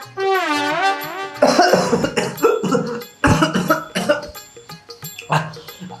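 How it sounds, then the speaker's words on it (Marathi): Repeated dry coughing bursts over a tonal musical background, several short coughs spaced unevenly across the clip, fairly loud and close. "माझा कोरडा खोकला बाहेर येलाय"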